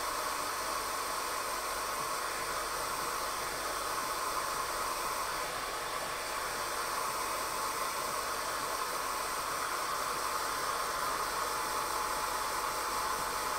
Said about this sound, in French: ici je vais nous faciliter un peu la vie simplement avec un petit coup de sèche-cheveux